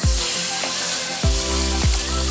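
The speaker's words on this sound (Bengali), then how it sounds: "এবার আমি সেদ্ধ করা আলু কপি সব দিয়ে দেবো ঝোল" Boiled potatoes and cauliflower tipped with their broth into a pan of frying spice paste, giving a loud hiss and sizzle with a few splashing pours.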